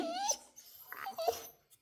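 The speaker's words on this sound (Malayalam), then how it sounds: "പട്ടി ഇതായിരിക്കും വിളിക്കുന്നത്" A dog whines in a few short, rising and falling whimpers, close to the microphone and fairly soft, with pauses between the cries and no talk over them.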